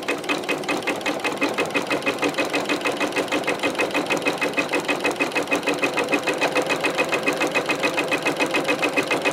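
A 7mm wide sewing machine stitches industrial rope at a 5.5 stitch width, a steady, fast, even rhythmic clatter running close and loud throughout.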